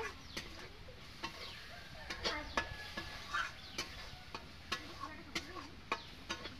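Curry gravy for a Bengali prawn malai curry is stirred and fried in a pan, giving a soft sizzle broken by sharp, irregular spatula knocks and scrapes against the metal, fairly quiet and close.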